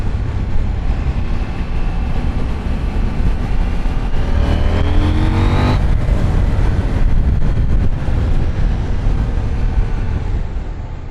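Husqvarna Svartpilen 801 motorcycle riding on a road, a steady engine drone mixed with wind rush, with a rising pitch sweep as it accelerates midway, loud and continuous throughout.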